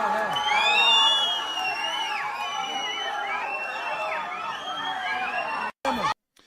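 A large crowd cheers and shouts with many overlapping high voices and whoops. The roar stays loud and continuous, then cuts off abruptly near the end.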